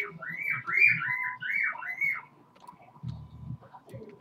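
A pet bird whistles a quick run of rising and falling chirpy notes close by, then goes quiet, with faint clicks and soft room noise following, indoors during a Minecraft Skyblock game session.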